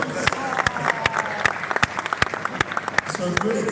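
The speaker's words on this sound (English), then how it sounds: "A round of applause, please." Audience applause at a Lagos event, a brisk round of clapping with sharp individual claps over a crowd murmur, fairly close and lasting the whole moment.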